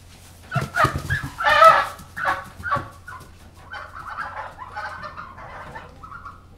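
A gosling calls while it is handled and its wings are taped for angel wing, giving close, squeaky, uneven peeps and squawks that trail into softer, shorter cheeps.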